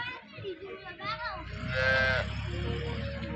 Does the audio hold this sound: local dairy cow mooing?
yes